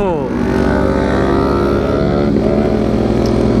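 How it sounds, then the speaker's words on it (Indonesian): A loud 2013 Honda CBR 150R motorcycle engine winds down under engine braking as the bike decelerates, its pitch dropping and burbling, with a voice briefly speaking over it. "Engine brake-nya serem juga."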